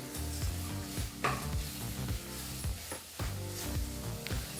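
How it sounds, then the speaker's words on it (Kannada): Fresh green peas and salt being stirred into masala in a pan for a hotel-style peas pulao: a spoon scrapes and scoops in a steady rhythm over a soft sizzle, with a low tonal hum underneath. "ಉಪ್ಪು ಮತ್ತು ಹಸಿ ಬಟಾಣಿ ಚೆನ್ನಾಗಿ ಮಸಾಲ ಜೊತೆ ಬೆರೆಯೋ ಹಾಗೆ ಮಿಕ್ಸ್ ಮಾಡ್ಕೋಬೇಕು"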